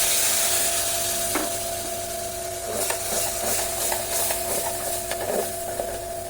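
Dry spices for mutton rogan josh sautéed with a splash of water in a pressure cooker, a continuous close sizzling hiss with light scattered stirring scrapes and taps.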